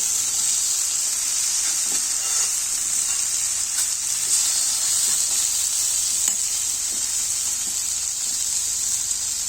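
Fish frying in hot oil with pepper, garlic and ginger paste, a steady bright sizzle and crackle that stays loud and even throughout with no talking.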